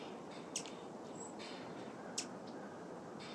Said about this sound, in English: Just chirping. Yeah. Singing the little song.